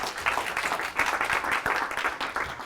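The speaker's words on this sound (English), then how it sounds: "Please give Rachel a big round of applause" Audience applause for a volunteer called forward at a workshop, a room of people clapping steadily with slight swells, moderately loud and unbroken by speech.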